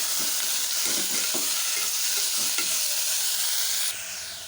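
Chopped tomatoes for a Chettinad kara chutney sizzle in a frying pan, a steady loud hiss with several scraping stir strokes, the sizzle dropping slightly near the end.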